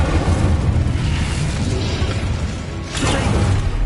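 The Incendio fire spell cast in Hogwarts Legacy on PS5 produces a loud, close roaring burst of flame with deep rumbling, swelling again in a second whooshing blast near the end.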